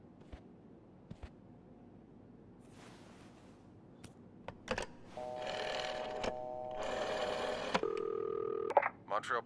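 In the video game This Bed We Made, a telephone is dialed: quiet clicks and handling noises give way to a run of loud, sustained dialing tones near the end, with a voice heard briefly.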